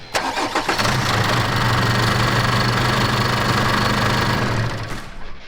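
A vehicle engine cranks briefly, then catches and settles into a loud, steady idle that continues for several seconds before easing slightly at the end.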